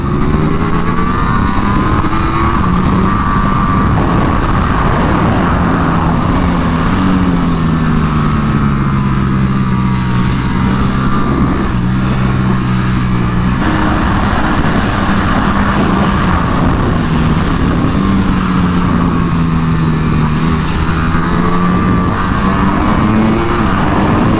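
A Ducati Panigale V4 R motorcycle screams around a circuit at a track day, its engine loud and close throughout with continuous rising and falling revs as the rider shifts through gears.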